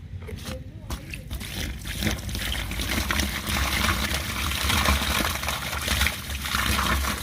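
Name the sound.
water poured onto chemical earthing compound in pit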